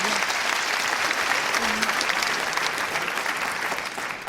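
Theatre audience applauding at a live comedy show, dense continuous clapping that holds steady for several seconds before easing slightly at the end.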